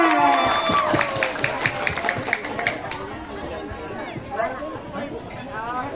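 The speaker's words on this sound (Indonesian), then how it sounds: "Tepuk tangan untuk semuanya." Audience applause for a hadroh group at a sholawat festival, a steady wash of clapping mixed with crowd chatter and voices throughout, fairly close and moderately loud.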